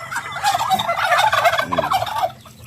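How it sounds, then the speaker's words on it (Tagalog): A turkey gobbles up close, a rapid warbling burst lasting a couple of seconds, loud and clear with other farm fowl faintly underneath. "Totoo daw, sabi ng pabo."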